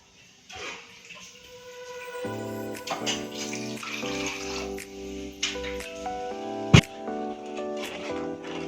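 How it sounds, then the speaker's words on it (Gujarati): Water is poured into a pot of kadhi for a fasting-day farali meal, a steady splashing pour over a bed of background music, without speech. "બીજું થોડું આપણે આમાં પાણી એડ કરી દઈશું."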